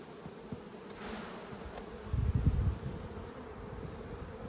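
Honey bees buzz steadily in a dense, continuous drone around open hive frames during a spring inspection, with a closer, louder swell partway through and light rustling and knocks from the frames.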